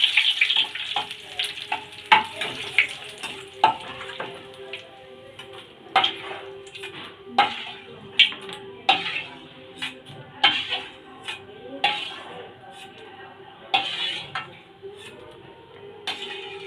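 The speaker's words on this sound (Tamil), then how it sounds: "கருவேப்பிலையை வறுத்தெடுக்கவும்." Curry leaves fry in hot oil in a pan for a dry pepper chicken, a steady close crackling sizzle broken by regular sharp clinks and scrapes of a utensil against the pan.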